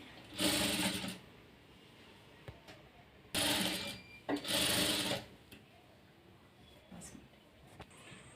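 A sewing machine stitches a border onto a blouse in two loud, steady bursts of whirring, separated by quieter handling noises and pauses.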